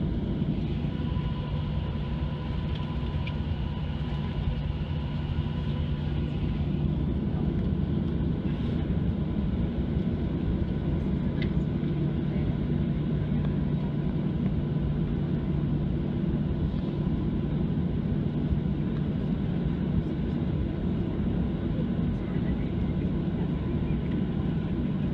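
Steady, loud cabin drone aboard a Wi-Fi equipped airliner waiting at the gate before departure, a continuous low engine and ventilation hum that holds unchanged throughout with no speech.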